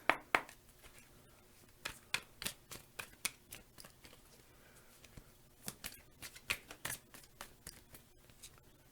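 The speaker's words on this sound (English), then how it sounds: "And then I'm also going to shuffle and draw some tarot cards." Tarot cards being shuffled by hand, a quiet run of crisp riffling snaps and soft paper flicks in uneven bursts, close and alone with no voices.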